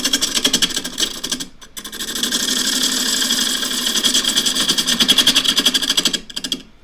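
A wood lathe turns an ash dish at fairly slow speed while a half-inch spindle gouge takes the bottom corner off. The rough cutting noise runs steady and close, broken by two short pauses, with no talking.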